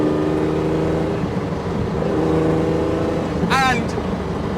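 A Lightweight Jaguar E-Type sports car engine drones steadily at speed, close and loud, its pitch shifting slightly as the car is driven, with a brief squeal near the end.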